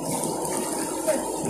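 Typhoon floodwater churns and gushes steadily as someone wades through it near a mall, a dense continuous rush with no clear break.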